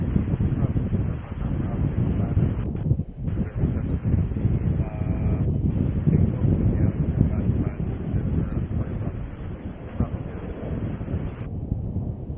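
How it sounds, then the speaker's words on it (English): Wind gusting across a microphone at a Chicago O'Hare plane-spotting spot, a loud, continuous low rumble and buffeting throughout with brief dips. "The wind again."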